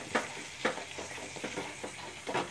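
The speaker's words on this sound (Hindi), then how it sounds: "देखिए लगातार चलाते हुए मैं पका रही हूँ" Green chickpea halwa stirred in a pan over a high gas flame, a spoon scraping through the thick mixture in soft, irregular strokes about every half second, close and fairly quiet, with no talk.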